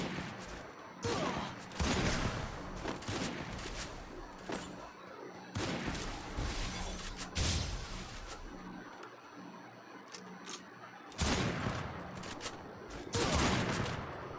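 Bursts of rapid gunfire from the mobile shooter game Free Fire come in repeated volleys, loud and close, separated by brief quieter gaps.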